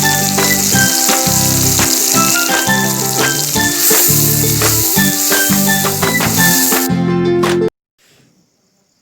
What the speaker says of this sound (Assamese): গৰম তেলত মই এয়া মিশ্ৰণখিনি দি দিছোঁ। লগতে মই কাটি লোৱা পিঁয়াজখিনিও দি দিছোঁ।